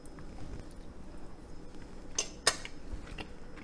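Cutlery works through a ribeye steak on a plate, giving quiet, sparse clinks and scrapes, with two sharper metallic taps standing out against a faint background.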